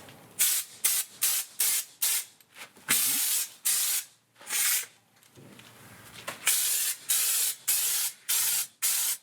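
Raptor liner coating sprays in short, loud hissing bursts into a car's underbody wheel well, a quick string of pulses, then longer blasts, a brief pause, and another rapid series of close sprays.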